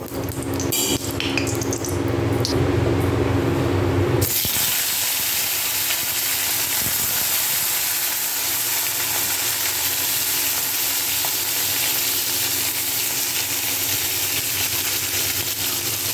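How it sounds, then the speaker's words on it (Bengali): Shol fish fries in a pan of hot oil with a steady, loud sizzle. A louder burst of sizzling and clattering comes as the fish goes in, then a continuous close-up frying hiss with no talk. "এরপর মাছটাকে আমি এখানে ভেজে নেব।"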